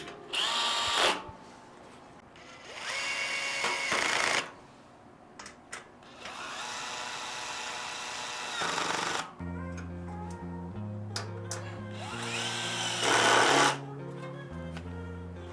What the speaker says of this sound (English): if I take my drill, turn down my torque setting